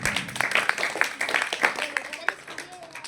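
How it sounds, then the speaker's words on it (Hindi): Students in a coaching class clapping for a fellow student after weekly test results, a scattered, uneven patter of hands at moderate distance, with some speech mixed in. "तालियां बजाओ बहन जी के लिए"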